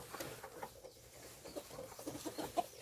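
A mother hen clucks softly in a coop, with a string of quiet, irregular clucks and small murmurs close by, faint and without voices.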